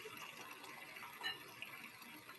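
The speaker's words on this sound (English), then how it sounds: "It's still filling for the pre-wash." Water pours steadily into a washing machine filling for its pre-wash cycle, a faint, continuous hiss and gush with small splashes rising briefly near the middle.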